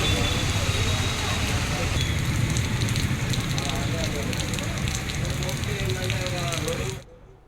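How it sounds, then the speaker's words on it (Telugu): Heavy monsoon-type rain pours down steadily during a downpour in the Telugu states, a dense, continuous roar of hiss that holds at one loud level for about seven seconds, then cuts off abruptly. "రాత్రి నుంచి ఎడతెరిపి లేకుండా వర్షం కురుస్తుంది"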